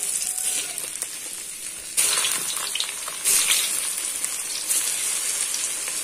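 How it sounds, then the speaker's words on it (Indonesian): Tempe frying in hot oil for a tofu and kencur broth dish, a steady close crackling sizzle throughout with a few louder bursts of spattering, no voices. "Ini saya akan menggoreng tempe terlebih dahulu."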